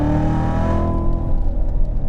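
A manual Chevrolet C7 Corvette Z06 pulls away under steady, loud engine drone, the note shifting and roughening as it drives off, close and continuous with no talk.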